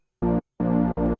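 Synth pad in Logic chopped by a noise gate that opens and closes, giving three short, clean bursts of sustained tone with abrupt starts and stops separated by silence.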